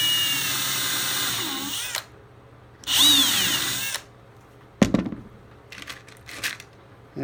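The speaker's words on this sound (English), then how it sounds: "Take the drill." Power drill driving screws into the wooden rub rail of an Alcort Super Sailfish boat, two loud whirring bursts of about a second each separated by a pause, followed by clattering handling knocks and scrapes.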